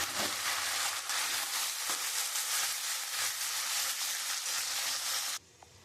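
Capsicum and onion hit hot oil in a pan where garlic has already browned, for chilli chicken, giving a loud, steady, close sizzle that cuts off abruptly near the end.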